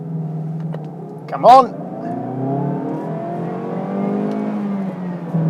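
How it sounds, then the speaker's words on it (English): A car launches from a standstill, its engine climbing steadily in pitch as it accelerates hard, with a brief voice near the start. "A nice little sound this engine makes."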